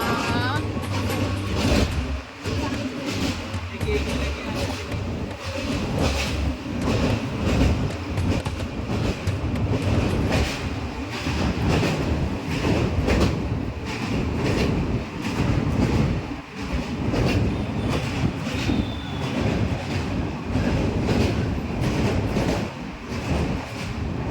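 A train rumbling into Bardhaman station, with continuous loud rolling rail noise and clattering wheels that sound close, and voices faintly audible beneath.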